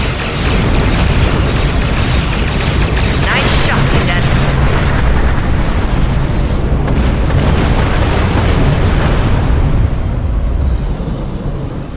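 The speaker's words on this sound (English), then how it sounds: "Concentrate fire on the remaining vessel." Starship weapons fire and explosions in the space combat game Star Trek Online rumble loudly and continuously, heavy booms and bursts layered over one another without pause.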